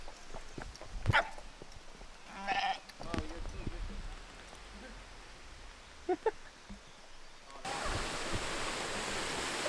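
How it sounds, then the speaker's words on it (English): Sheep bleat a few times at varying distances amid outdoor wind and scattered rustling in the Brecon Beacons, Wales, with people talking quietly now and then. "Sheep everywhere."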